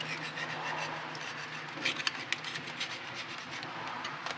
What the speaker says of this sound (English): So we're just scraping the gasket and any grime.